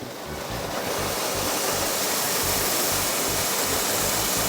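Water rushes steadily out of a pump pipe bypass outlet, released as the bypass is closed on a pressure-relief setup; a loud, continuous broadband gush with no talk.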